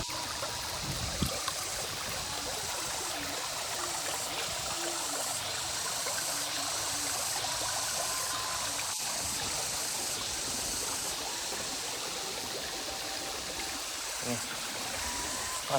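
Flood water streams steadily back in near a mosque in a flooded village, a continuous rushing flow with light trickling and a few brief knocks throughout.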